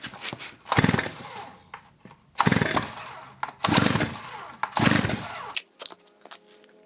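A 45-year-old chainsaw's starter cord is yanked four times in a row, each pull a loud, broad rasping whir of roughly half a second with short pauses between, close by and with no speech.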